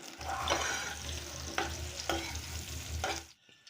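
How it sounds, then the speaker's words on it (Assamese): Potatoes fry in oil in a wok for an Assamese aloo dum, a steady close sizzle broken by a few sharp stirring scrapes of the utensil, with no voices. "মই এতিয়া এই আলুখিনি ফ্ৰাই কৰি ল'ম"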